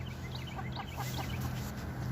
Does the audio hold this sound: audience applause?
no